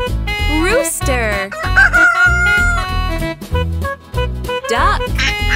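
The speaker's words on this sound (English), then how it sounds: "Rooster." A rooster crows in a cheerful children's farm song, with bright stretched calls over a bouncy musical backing that plays throughout.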